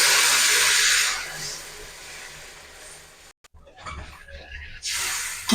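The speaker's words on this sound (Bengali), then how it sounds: "এবার আমি মশলার মধ্যে দিয়ে দেবো জল, পরিমাণ মতো জলটা দিয়ে দেবো।" Water poured into hot fried spice paste for an egg omelette curry hisses loudly at first, then the sizzle fades and softens, with brief clatter and a short renewed hiss near the end.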